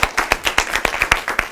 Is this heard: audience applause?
yes